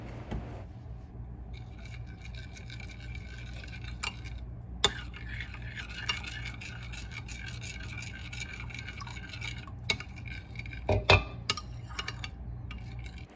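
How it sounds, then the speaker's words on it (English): Teriyaki sauce thickened with cornstarch being stirred in a microwave-safe dish, soft scraping and light clinking of a utensil against the container, quiet and irregular with a few sharper taps near the end. "I stir and it smooths out"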